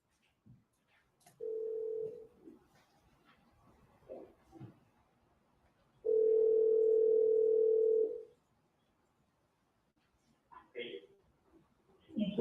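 Steady telephone dial tone sounds twice on a recorded call between two people, a short burst then a longer sustained tone, with faint voices and clicks around it.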